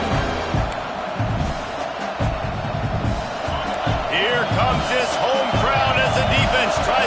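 Home crowd cheering in an American football video game, a loud, steady roar of a stadium crowd that swells and holds throughout, with a commentator talking over it.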